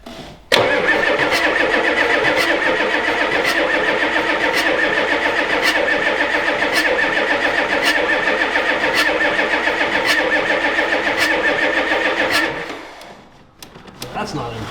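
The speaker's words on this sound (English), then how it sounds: "there's no mufflers on this, so if it does start, it's gonna be a little loud" A Ford F250 diesel engine with no mufflers, started for the first time in years, cranks and catches into a loud, rough, open-exhaust rumble that runs steadily before cutting off abruptly near the end, with no speech over it.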